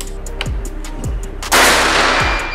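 A Jawara Mauser PCP air rifle with a silencer fires one loud, hissing shot during chronograph testing, with repeated dull low thumps in the background before and after.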